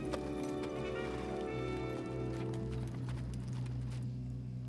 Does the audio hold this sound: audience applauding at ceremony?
no